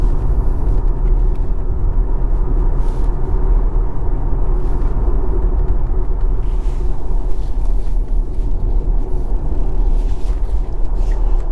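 A steady, loud low rumble of road and wind noise inside a car cruising along a road, continuous and unbroken, with no talk.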